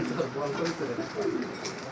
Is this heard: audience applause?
no